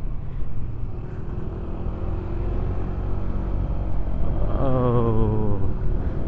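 Yamaha Nmax scooter on the road with the throttle opened, an engine drone under wind rumble that rises into a clear climbing pitch near the end.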